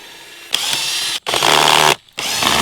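A power drill backs screws out of a wooden concrete casting form for a rain splash block, with three loud, close bursts of whirring separated by short pauses.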